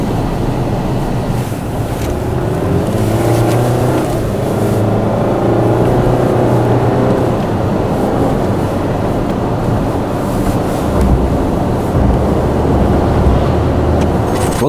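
Steady road roar and wind rushing heard from the back seat of a VW Tiguan with a 2-litre engine driving at speed, a continuous loud broadband drone without talk.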